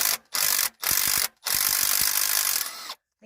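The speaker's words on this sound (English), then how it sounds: "Right now I'm pulling the rocker arms off" A ratchet rasps in fast, continuous clicking bursts while rocker arms come off a 1974 Ford F100 engine, four close strokes broken by brief pauses.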